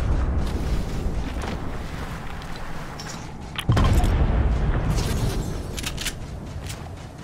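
Tank cannon fire and explosions in the Fortnite video game: dense, loud rumbling barrage with a sharp heavy blast midway followed by continuing booms and crackle, no talk.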